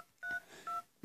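Touch-tone beeps as a telephone number is dialed: two clear, even keypad tones with a short gap between them, and a third beginning at the very end, fairly quiet and with no talking.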